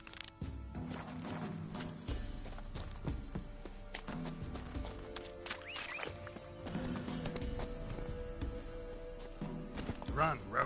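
Roach the horse gallops in The Witcher 3, its steady clip-clop of hooves repeating through a busy game soundscape with music and voices talking over it.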